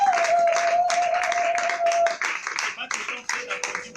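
Church congregation claps in loud bursts of applause at a French-language worship service honoring the Holy Spirit, hands striking in uneven waves with a sustained tone ringing underneath and voices mixed in.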